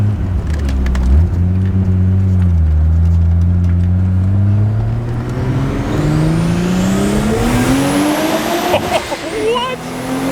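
A Nissan Stagea engine revs hard inside a tunnel, loud and close, its pitch climbing through gears with brief dips between shifts, the roar echoing and swelling toward the end.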